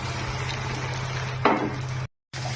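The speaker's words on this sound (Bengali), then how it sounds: "এবার এর মধ্যে ভেজে থাকা মাশরুমগুলো আমি দিয়ে দিচ্ছি।" Fried mushrooms added to a pan of fried potatoes and spices while cooking Bengali style; a steady, close sizzle runs throughout, broken by one soft thump and a brief dropout near the end.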